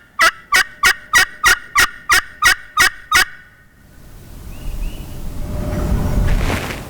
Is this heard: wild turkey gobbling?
yes